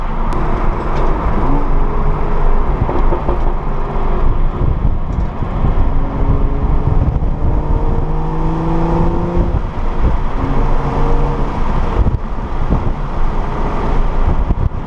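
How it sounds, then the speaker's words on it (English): A catless BMW N55 engine in a manual car drives while still warming up, its exhaust heard from the rear bumper as a loud, steady rumble with rising and falling revs and wind buffeting throughout, with no talking. "I'm still warming up the car a little bit just so I don't blow it up."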